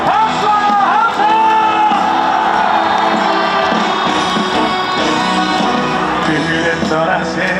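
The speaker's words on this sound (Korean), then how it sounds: "한 번 더 큰 목소리로 박수와 함성!" Crowd at a K-trot festival in Daegu shouting and cheering in a continuous loud swell of voices over band music, with clapping blended into the roar.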